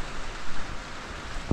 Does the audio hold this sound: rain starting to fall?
yes